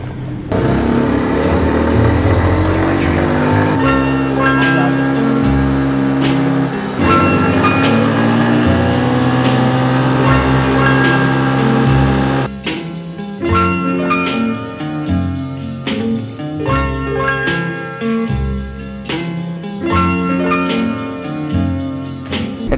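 A Piaggio 80cc scooter with a performance CDI and an original SIP exhaust revs hard at full throttle, its engine note climbing and falling in loud repeated surges, with sharper popping bursts toward the end.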